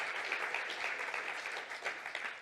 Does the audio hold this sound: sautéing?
no